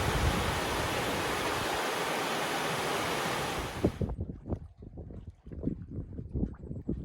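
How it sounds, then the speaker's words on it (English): A creek rushes through a tunnel punched through a hillside in the North Cascades, a loud, dense roar of flowing water that cuts off abruptly, leaving scattered knocks and bumps. "Here's the creek that we walked over earlier."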